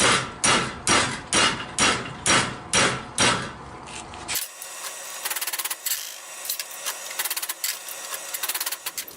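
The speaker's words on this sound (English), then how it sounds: "then hammer angles into the end that add up to 90 degrees" Heavy hammer blows ring out on 1-inch flat steel, bending angles into its end in a steady rhythm, then continue as lighter, quicker taps, loud and close.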